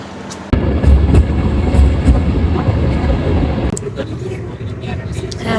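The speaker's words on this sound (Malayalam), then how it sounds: "ഞങ്ങളിപ്പോ ഹാമിലേക്കുള്ള ട്രെയിൻ കയറി" Inside a moving regional train in Germany, a loud steady rumble with rhythmic rail clatter, and a voice speaking over it.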